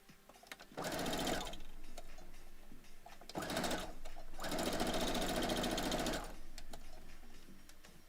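A sewing machine stitches pixel quilt pieces for a retro hunting duck block, running loud and close in three sustained bursts with short pauses between them, and no talk over it.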